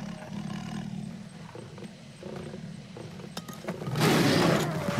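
A tiger roars in the Stone Age game Far Cry Primal, a sudden loud, rasping roar bursting in near the end after quieter rustling and scattered thuds.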